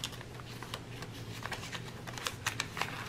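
Paper envelopes being handled and opened for cash stuffing, soft close rustling and crinkling with small tapping clicks, quiet and with no talk.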